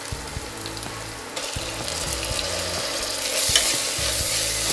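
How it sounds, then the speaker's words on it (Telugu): Chopped tomatoes frying with ginger-garlic paste in a hot pan, a continuous close sizzle with rhythmic scraping stirs of a spoon against the metal, steady and fairly loud throughout without any voices. "ఇప్పుడు చాప్ చేసి ఉంచుకున్నటువంటి టమాటాస్ వేస్తున్నాను."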